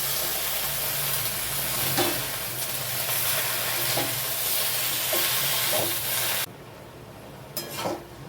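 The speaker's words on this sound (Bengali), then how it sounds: "আবারও দু তিন মিনিট ভালো করে কষিয়ে নিয়ে দিয়ে দিচ্ছি পুঁই শাকটা।" Malabar spinach (pui shak) stir-fried in a pan with spices, a continuous close sizzle and hiss with a few scraping stirs of the spatula, the frying dropping suddenly quieter near the end.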